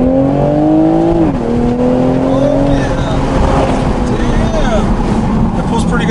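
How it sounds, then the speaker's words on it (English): A car accelerates hard, its engine tone rising, briefly dropping at a gear change, then climbing again into a loud, rough exhaust roar close by, with voices talking over it. "It has they call it a crackle on the exhaust, right?"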